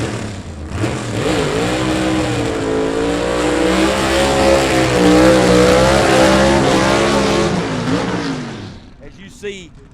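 Gasser drag race cars, including a 1955 Chevy, roar down the strip in a loud, sustained engine howl that rises and wavers through gear changes before fading, with an announcer talking over it.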